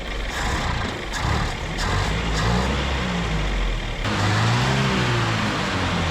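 A 1967 International Scout engine catches and runs on fuel, a steady loud mid-pitched engine roar with uneven revving, surging higher in the last two seconds, close by.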